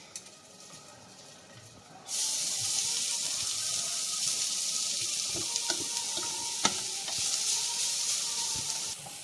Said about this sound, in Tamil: பாத்திரத்தில் கொஞ்சமாக நெய் ஊற்றி கேரட்டையும் வதக்க போகிறோம்.